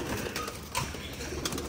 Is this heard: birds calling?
yes